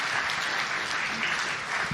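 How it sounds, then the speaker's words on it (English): An audience applauds after a talk on resisting AI pressure on the quality of work, dense continuous clapping that carries steadily through the moment. "let's give John a round of applause"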